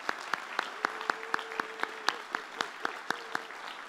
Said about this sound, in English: Please join me in giving all of these remarkable students a round of applause.